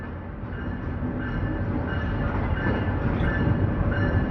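The Khyber Mail passenger train of Pakistan Railways rumbles past nearby, heavy and loud, with a steady low roar of wheels on rails that grows slightly stronger.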